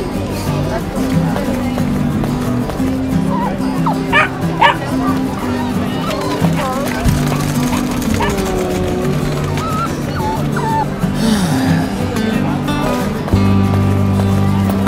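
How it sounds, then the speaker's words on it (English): A dog barks and yips repeatedly in the Roblox Brookhaven video game, short bursts mixed with whimpers over game background music, with people talking throughout. "I want to buy this dog."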